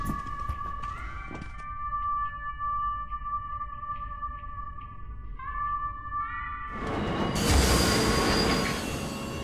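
A train in the Sam & Max adventure game gives off long, sustained squealing and whistling tones, followed by a loud burst of rushing, rumbling rail noise toward the end.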